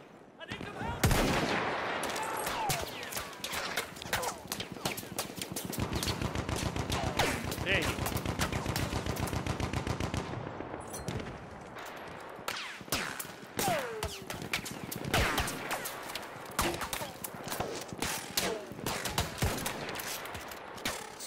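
Gunfire in Battlefield 1 during a conquest match: a long rapid burst of machine-gun fire followed by many sharp single shots and bursts spread throughout, loud and near, with some talk mixed in.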